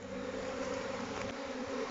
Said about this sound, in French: Les abeilles entament la procession.